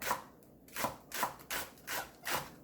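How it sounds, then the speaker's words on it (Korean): Knife shredding cabbage into thin strips for a Korean cabbage salad, heard as about six evenly spaced crisp slicing strokes, each a broad scraping rasp, close and clear with no talk. "채 썰어 줍니다"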